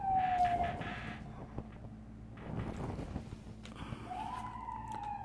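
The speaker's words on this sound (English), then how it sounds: "the ambulances have started outside" Ambulance sirens wail outside at a distance, rising tones sounding in brief bursts over a low background rumble with gaps of quieter street noise.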